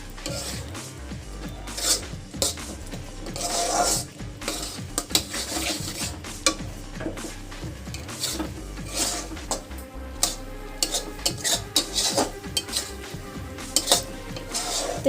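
A metal spoon stirs and scrapes a thick paneer masala made with cashews and tomato in a kadai. The clinks and rasping scrapes come in close, irregular bursts over a faint sizzle.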